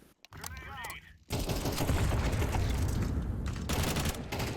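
Sustained rapid gunfire from Counter-Strike 2 fills most of the clip, loud and dense after a short pause, following a brief muffled voice at the start.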